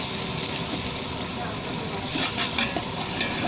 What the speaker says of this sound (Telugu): 1/2 కేజీ అల్లం వెల్లుల్లి పేస్ట్ వేసామండి. బాగా వేగాలి.